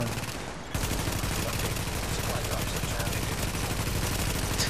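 Sustained rapid automatic gunfire from a level 29 gun in The Division, a dense rattling stream of close, loud shots that starts abruptly and continues without pause.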